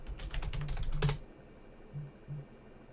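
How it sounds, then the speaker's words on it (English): Someone types a password on a computer keyboard at close range, about a second of quick, closely spaced key clicks ending in a sharper press, followed by a couple of faint soft taps in near silence. "Type in our password."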